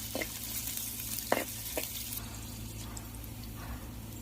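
Capsicum roasts in hot oil, giving a low, quiet sizzle with a few sharp pops and crackles over a steady background hum.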